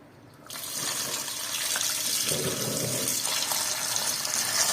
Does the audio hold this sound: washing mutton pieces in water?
yes